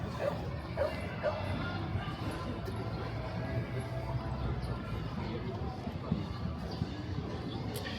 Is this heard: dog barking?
yes